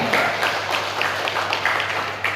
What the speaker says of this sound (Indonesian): Mari kita tepuk tangan untuk diri kita sendiri.